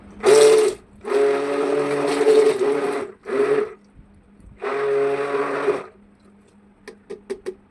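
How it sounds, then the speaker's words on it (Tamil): An immersion blender mixes red wine into cold process soap batter in several loud, close whirring bursts separated by short pauses, ending in a few soft clicks. "இந்த ரெட் ஒயினை வந்து கொஞ்சம் கொஞ்சமாக சேர்த்து லைட்டாக பிளண்ட் கொடுத்துட்டே இருக்கேன்"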